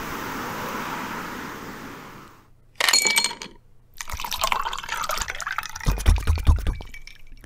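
A drink is poured over ice in a glass. Quiet fizzing hiss gives way to a sharp clatter of cubes, then a closer pour with several bright clinks toward the end.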